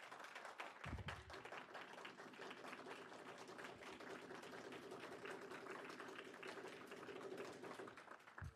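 Audience applause at a student cybersecurity club general meeting, a steady wash of many hands clapping that begins abruptly and continues evenly for several seconds at moderate distance, with no talking over it.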